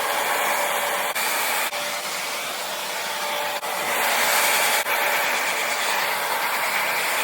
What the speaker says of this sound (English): Now we are going to rough dry the hair.